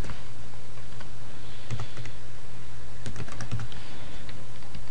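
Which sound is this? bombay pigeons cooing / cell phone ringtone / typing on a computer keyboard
typing on a computer keyboard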